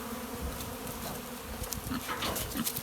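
Soft, steady hum of many honey bees buzzing around hives in the fall, with individual bees droning closer and farther at fairly low volume.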